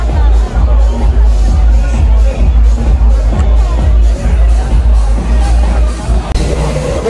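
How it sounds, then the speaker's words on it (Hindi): Dense crowd hubbub outside Thalassa Club, a party venue in Goa, with loud overlapping chatter and babble, steady low bass thumping beneath, and occasional shouts or bangs rising out of the constant noise. "भीड़ देखो कितनी हो रखी है"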